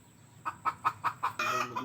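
A chicken gives five quick, evenly spaced clucks, then a longer, rougher squawking cackle and one more short cluck, all fairly close and quiet.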